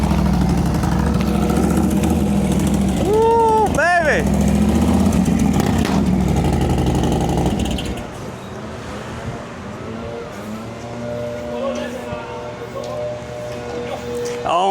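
A 140 cubic inch All American Cycle motorcycle engine with an exhaust leak, a Sturgis custom build, runs loud and close, surging through a couple of revs before settling lower, while people shout and cheer over it.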